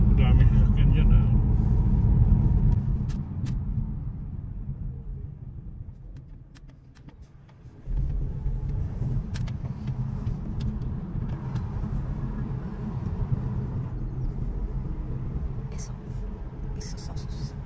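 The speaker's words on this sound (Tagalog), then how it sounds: "Dami sasakyan dyan ha." Steady road traffic of many cars rolling past, a continuous low rumble that dips briefly then returns, with faint whispery voices and scattered small clicks over the top.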